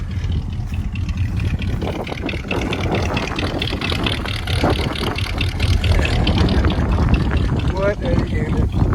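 A loud, steady engine idle from a 1985 Chevrolet C10 pickup truck that sat for 10 years rumbles with a deep low-end throb, its exhaust sputtering continuously up close.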